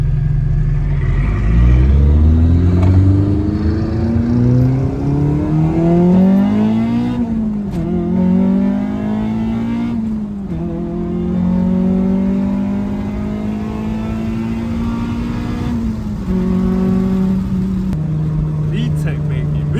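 A 1999 Honda Civic Si with over 250,000 miles, burning oil and trailing black smoke, revs hard into VTEC in repeated rising engine pulls with brief dips between gear changes, loud and close.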